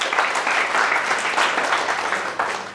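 An indoor audience applauds at a talk, a sustained wash of clapping from many hands that holds steady for a few seconds before tapering slightly.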